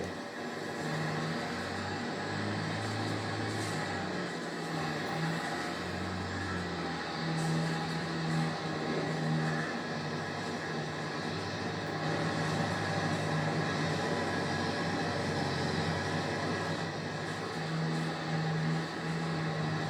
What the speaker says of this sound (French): je cherche pas plus loin tant que le tracteur tire, c'est bon